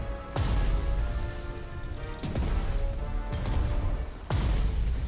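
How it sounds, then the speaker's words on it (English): Rain falls steadily in the World War II strategy game Strategic Mind: Blitzkrieg, a constant hiss broken by several sudden heavy booms and crashes, with no talking. "It's always raining."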